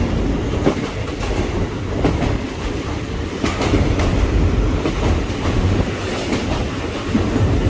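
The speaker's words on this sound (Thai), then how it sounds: "อันี้รถกำลังจะผ่านสะพานดำนะครับสะพานดำ" A train rumbles loudly nearby as it crosses a bridge, with a steady heavy roar and rhythmic clacking of wheels over the rails.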